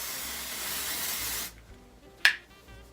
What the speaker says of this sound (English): Dry Shampoo